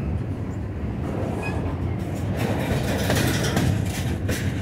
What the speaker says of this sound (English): This is a pretty heavy train.